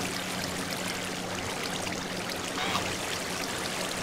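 Water pours and floods across blocks in Minecraft with the Hammerite resource pack, a steady broadband rushing and trickling that continues evenly throughout.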